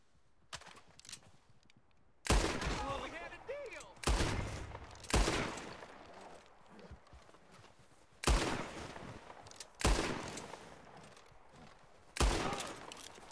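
Gunfire rings out in Red Dead Redemption 2 during a train robbery, sharp loud shots spaced irregularly a couple of seconds apart, each trailing off into reverberation, with faint talk in between.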